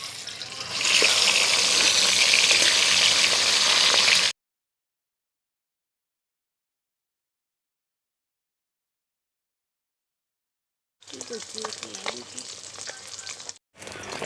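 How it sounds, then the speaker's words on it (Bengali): Rui fish pieces frying in hot mustard-style oil for a Bengali curry, loud close sizzling and spattering, then a long silent gap before the crackle returns with some clatter. "এবার মাছগুলো ভেজে নেব।"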